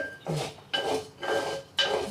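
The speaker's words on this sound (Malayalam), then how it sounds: "എന്ത് പാത്രമാണെങ്കിലും അതിലിട്ടിട്ട് നല്ലോണം അരി വറുത്തെടുക്കാം" Rice dry-roasting in a pan over medium heat for the Kerala snack thamukku, heard as four rhythmic, close scraping and rasping stirring strokes with no talk.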